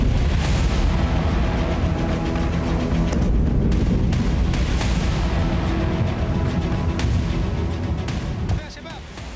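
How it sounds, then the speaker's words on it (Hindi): An Israeli drone strike on the Syrian defence ministry in Damascus brings heavy, continuous rumbling explosions and booms, loud and dense throughout with sharp bursts layered over a deep roar. "ड्रोन के जरिए किए गए इस हमले से रक्षा मंत्रालय में तेज विस्फोट हुए।"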